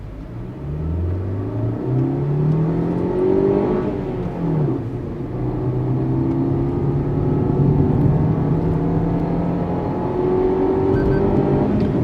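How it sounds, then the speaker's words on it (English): Inside the cabin of a 2022 Maruti Suzuki Baleno Alpha manual hatchback, the engine revs climb steadily under hard acceleration, dip briefly at a gear change, then rise again in a loud, continuous drone. "Now, continuing with the NVH point, I am going to sprint. Just listen to the engine."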